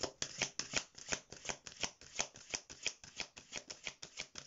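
A deck of oracle cards is riffle-shuffled close up, giving a quick, regular series of crisp papery flutters and snaps that repeat about three or four times a second.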